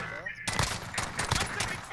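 Rapid gunfire from a gun in a Call of Duty match, loud bursts of shots running nearly continuously after a quiet opening moment, with game effects layered in.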